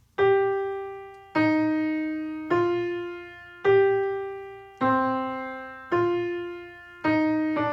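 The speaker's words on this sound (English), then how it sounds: "So the tenor is going to sound like this" A Bach fugue subject played slowly on piano in augmentation in the tenor voice: seven separate, evenly spaced sustained notes, each struck clearly and left to decay, with no talking.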